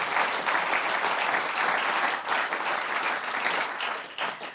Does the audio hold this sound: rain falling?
no